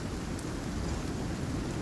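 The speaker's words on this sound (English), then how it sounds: "So it's raining." Steady rainfall in the survival video game Icarus, a constant dense hiss with low rumbling weight, even and unbroken throughout, with no voices.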